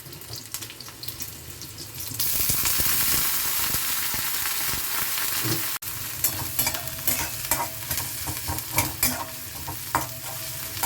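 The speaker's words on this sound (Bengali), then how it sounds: "পেঁয়াজটা আরেকটু ভাজা হবে।" Onions sizzling as they fry in a pan with garlic and green chillies: a soft crackle at first, then a sudden loud, steady hiss of frying, broken by a brief gap and then uneven sizzling with stirring scrapes.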